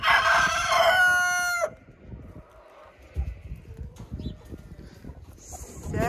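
A rooster gives a loud, close crow at the start, then the sound falls to quieter background with scattered clucks and rustling from chickens near the coop, and another cry rises at the end.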